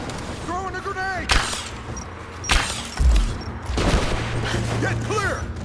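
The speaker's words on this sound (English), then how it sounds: "Throwing a grenade!" Rise of the Tomb Raider combat: a thrown grenade and gunfire. Several sharp bursts and a deep blast cut through shouting voices and a steady background drone.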